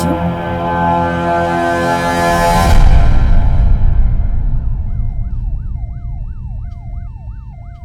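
An ambulance siren wails in a fast repeating up-and-down cycle, rising out of a loud, busy scene in a dubbed South Indian action film and continuing steadily to the end.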